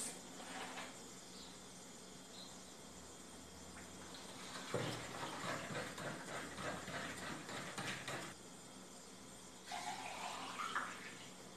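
Water poured from a kitchen water filter to make sugar water for birds, heard as a steady, faint running stream with a louder splashing pour in the middle and a brief surge near the end, with no voices.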